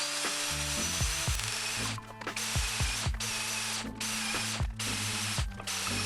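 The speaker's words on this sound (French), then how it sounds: "Son appareil est en réalité une perceuse à colonne magnétique." A magnetic drill press bores through steel plate, its motor whirring steadily with repeated grinding, ratcheting bites as the cutter works through the metal, close and fairly loud throughout.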